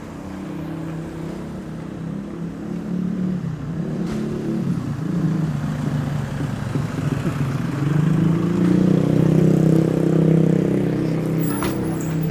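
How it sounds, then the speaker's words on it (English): A Bangkok village minibus approaches with a deep engine rumble that grows louder and closer over several seconds, then settles into a steady idle. "we've got a minibus coming now, and you wave it down just like a taxi."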